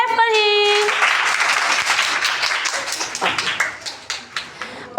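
A burst of applause from students in a classroom, many hands clapping at once, loud at first and thinning into scattered claps before fading.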